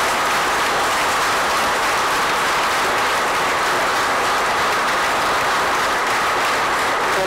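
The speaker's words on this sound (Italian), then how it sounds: "Quindi fatevi un applauso a voi stessi." A congregation fills a reopened village church in Forcella with loud, dense applause that holds at full strength for over seven seconds, an unbroken roar of many hands with no voices above it.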